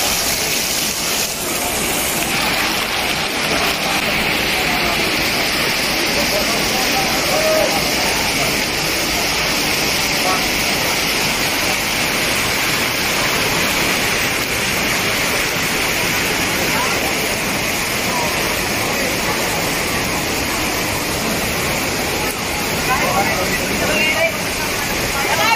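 Steady broadband rush of a stream flowing along a riverside in Butuan City, continuous and fairly loud throughout with no pauses.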